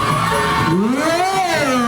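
A crowd at an ondel-ondel street parade in Indonesia shouts and cheers on cue, a loud, sustained mass of voices with whoops rising over a steady din for about two seconds.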